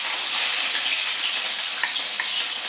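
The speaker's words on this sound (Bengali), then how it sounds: "এই যে আমি এখন মাছ ভাজা বসাবো, ভোলা মাছ" Bhola fish frying in hot oil hisses with a loud, steady sizzle, bright and continuous, with a few faint pops and no voices.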